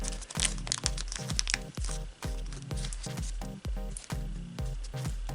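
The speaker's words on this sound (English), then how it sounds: "Fold the flaps in" Paper flaps folded in on an emoji flicker table spinner, giving a steady run of close crinkling and creasing crunches in quick rhythm, with no voices.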